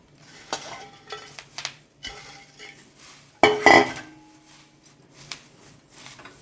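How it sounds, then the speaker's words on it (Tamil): Curry leaves fry in a pan with soft crackling and a few spoon scrapes and clinks against the metal, one louder burst of sizzle and stirring in the middle, close and without talk. "இப்போ கருவேப்பிலை போட்டு வறுத்துக்கலாம்"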